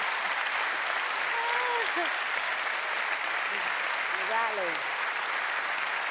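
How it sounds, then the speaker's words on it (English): Broad, steady applause from a crowd at a Labour Party campaign speech fills the whole stretch, with a voice speaking briefly over the clapping. "I think you can give yourselves a round of applause"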